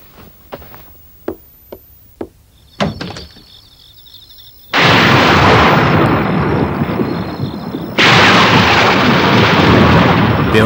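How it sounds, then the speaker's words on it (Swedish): On a hot summer night, a few sharp cracks come first, then thunder rolls in two long, loud, rumbling bursts that fill the air. No one speaks. "Det åskar. Då blir det säkert regn."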